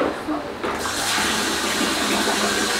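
Water runs and splashes continuously while a small child is bathed at home, a loud steady gush with a brief softer start, and voices in the background.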